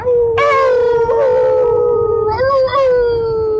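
A person imitates a wolf, holding a long, loud, rising and falling howl, then a second howl that wavers and trails off.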